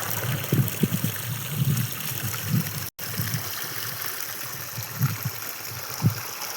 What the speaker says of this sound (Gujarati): અહીંયા પાણી આવતું થઈ ગયું છે